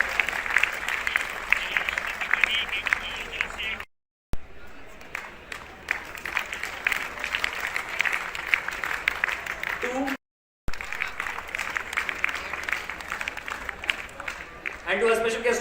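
An audience at a governor's event launching a hackathon in Rajasthan claps with sustained, fairly dense applause, interrupted by two brief gaps, with a voice coming in at the end.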